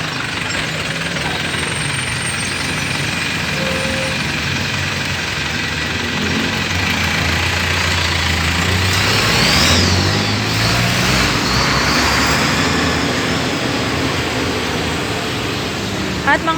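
Steady traffic roars along the Santo Cristo highway near North Gate in the late afternoon, with engines idling and vehicles passing in a dense, continuous wash of noise that swells midway.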